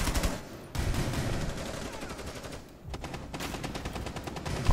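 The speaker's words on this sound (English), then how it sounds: "Oh, someone's using a shotgun." Shotgun fire in the video game Rainbow Six Siege comes as loud, rapid bursts of shots, broken by a brief pause and then starting up again, with no voices over it.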